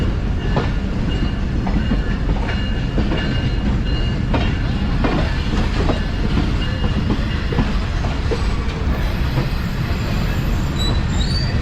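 Jaffar Express at Jacobabad Junction: steady rumble of rail cars with wheel clatter and squeals throughout, loud and continuous, heard close on board the train.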